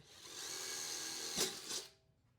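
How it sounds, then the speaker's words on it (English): A power drill bores a hole in a homemade bug killer held near a vise, a steady high whine for about a second and a half, then two louder bursts as the bit bites before it cuts off. "he is going to drill it so we can mount it"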